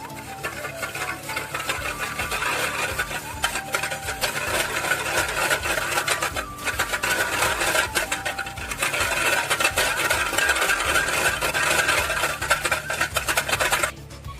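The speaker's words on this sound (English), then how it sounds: "And we're gonna whisk it together." Rapid, steady rhythmic hand whisking of yeast, sugar and warm water against a bowl, a continuous scraping clatter up close that runs for several seconds before stopping.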